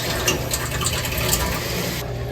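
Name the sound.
water filling the repaired well supply line system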